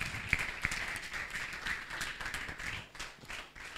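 A church congregation claps to acclaim Jesus, a few sharp claps followed by looser scattered clapping, fairly soft and brief.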